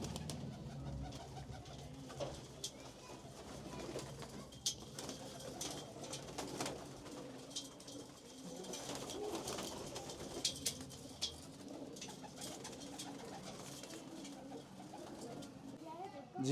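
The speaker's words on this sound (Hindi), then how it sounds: "ये कबूतर है, ये कबूतरी हैं दोनों?" Pigeons coo softly in a loft of prized white-eyed birds, faint low murmurs recurring under a steady background with occasional wing flutters and a voice talking.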